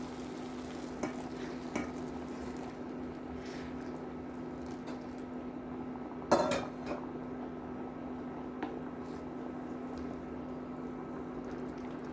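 Hot water poured into Mexican rice frying in a pan, giving a steady close sizzle with a brief louder splash and bubbling burst partway through, plus a few faint clinks of stirring.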